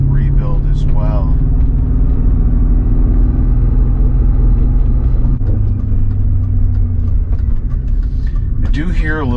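A BMW with a rebuilt engine and lightened flywheel drives under acceleration, a loud, close cabin drone of steady engine hum and low rumble, with brief voice-like sounds near the start and end.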